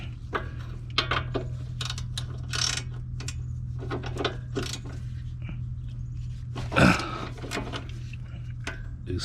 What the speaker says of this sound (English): break loose the lower ball joint with a 17